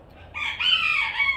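A rooster crows once, a bright, drawn-out call rising and holding, fairly close and clear against a quiet background.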